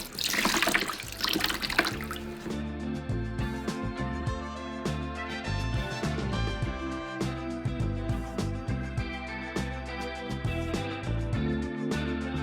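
Water sloshes and rushes loudly for about two seconds as TSP-based chemical cleaner is mixed in for cleaning a mid-century modern end table, then steady background music takes over.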